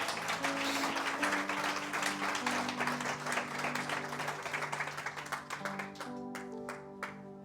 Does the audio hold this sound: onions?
no